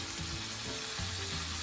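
Ginger, garlic and onion paste sizzling in hot oil in a pan for a carp fish curry, a steady, dense frying hiss with a low scraping undertone, close and continuous.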